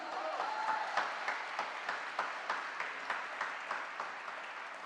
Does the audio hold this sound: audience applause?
yes